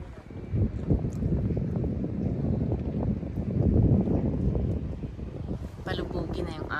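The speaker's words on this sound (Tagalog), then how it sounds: "mahangin siya" Steady, roaring wind buffeting the microphone continuously outdoors over a wide river on a foggy day, loud and unbroken, with faint higher sounds near the end.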